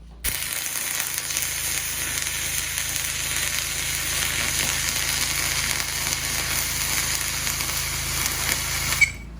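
Steady crackling welding hiss on a steel machining part, continuous and fairly loud for about nine seconds with a faint hum beneath and no talk, ending abruptly.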